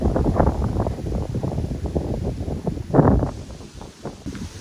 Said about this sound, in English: it looks like a lot of the prairie blowing in the wind